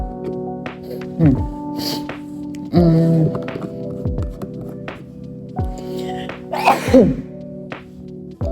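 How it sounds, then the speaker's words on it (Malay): A single short sneeze bursts out near the microphone during casual talk while a person eats rasmalai, with speech and steady tonal background sound around it. "Sorry aku bersin."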